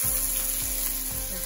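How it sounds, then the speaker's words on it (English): Steak frying in a hot pan, a loud, dense, continuous sizzle that holds steady throughout with no voices. "All right, so the steak's cooking in there"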